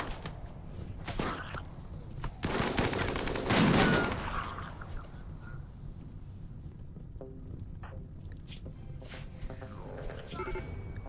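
Bursts of gunfire in the RimWorld video game, a dense crackling volley swelling in the first few seconds and then fading to a low steady hiss with scattered faint pops.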